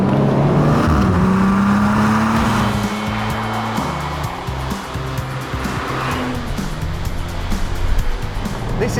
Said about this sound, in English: This is the Morgan Plus 6, and despite the ye olde England look, underneath it is a BMW Z4 / Toyota Supra